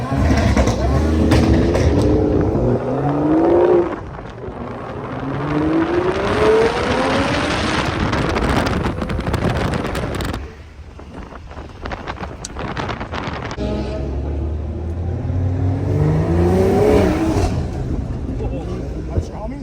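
A turbocharged BMW M340i roars through rising acceleration pulls at night, loud and close, with heavy wind buffeting, a sudden drop-off midway, then another strong pull; people talk over it.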